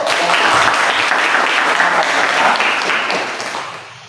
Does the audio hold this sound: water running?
no